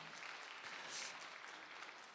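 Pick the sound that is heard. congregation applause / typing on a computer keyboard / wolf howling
congregation applause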